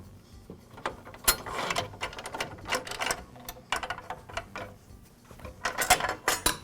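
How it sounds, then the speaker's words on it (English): Screw being backed out of the guard link at the rear of a DeWALT miter saw during pivot sleeve repair, a series of close, irregular ratcheting clicks and small metallic ticks with no talking. "remove the screw that secures the guard link to the rear of the saw"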